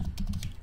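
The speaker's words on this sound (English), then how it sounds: "I'm going to type it" A few quick keystrokes clatter on a computer keyboard, close and fairly soft, lasting under a second.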